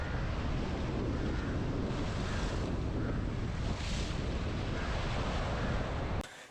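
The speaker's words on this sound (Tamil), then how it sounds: "கடற்கரையில சரியான கடல் கொந்தளிப்பா இருக்கு காத்து மிக பலமா வீசுற மாதிரி" Rough sea surf and strong wind at a beach in Jaffna, Sri Lanka, during a storm with heavy rain. A loud, continuous roar of wind buffets the microphone over crashing waves and then cuts off abruptly at the end.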